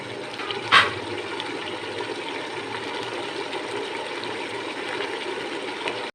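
Arvi masala curry with yogurt boils steadily in a pot, giving a continuous bubbling, watery hiss at moderate level with one brief louder splash near the start.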